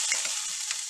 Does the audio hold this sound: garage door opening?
no